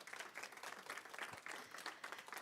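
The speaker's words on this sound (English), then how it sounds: "You're receiving a round of applause in the room" Steady applause from a room full of people at a youth internet governance forum, continuous clapping at moderate level for a couple of seconds.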